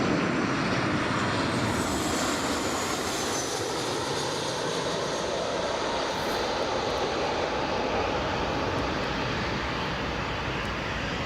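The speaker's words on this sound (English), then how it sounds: "KLM is just taxiing now." A jet airliner taxiing at Newcastle International Airport gives a steady, loud engine roar and whine that holds unbroken throughout, broad and rumbling with no talk over it.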